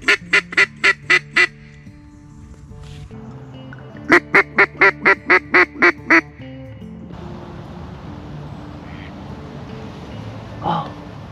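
Wild ducks at a pond, two bursts of loud rapid quacks in close series, then quieter ambient water and wind noise with a faint call near the end.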